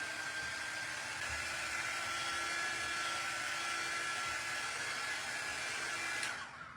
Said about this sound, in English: let's blow dry that a little bit so that I don't get any on me